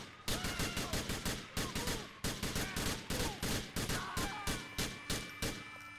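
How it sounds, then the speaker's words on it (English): Rapid gunfire in a video game police scene, a sustained burst of loud, closely spaced shots at a steady rhythm with short pauses, sharp and up close. "Shots fired, shots fired!"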